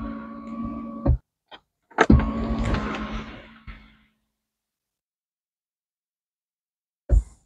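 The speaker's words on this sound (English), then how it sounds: "And because my sunroof actually goes into the car, I shouldn't have a problem opening the sunroof." A car's electric sunroof motor whirs nearby in two short runs, with clicks and a mechanical thunk at the start and stop, followed by quiet and one last soft clunk.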